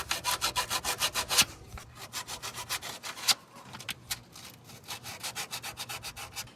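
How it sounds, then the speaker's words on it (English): A part on an F250 truck is sanded by hand in quick rhythmic back-and-forth rubbing strokes, close and distinct. There is a brief pause, then slower, more uneven strokes, with no talking. "Just trying to sand it."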